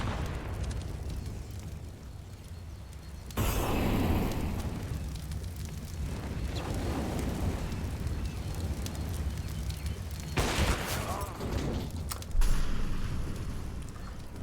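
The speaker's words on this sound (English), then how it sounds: "A deep nade, gonna do some damage on Dapper" A grenade detonates in the Counter-Strike video game, a loud broadband blast at about 3.4 s followed by a rumbling tail, with further bursts near 10.5 s and 12.4 s amid steady game noise.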